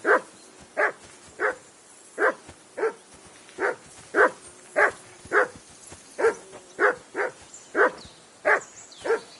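A dog barks repeatedly in a steady, rhythmic run of single loud barks, close by and spaced roughly half a second to a second apart, with no voices over them.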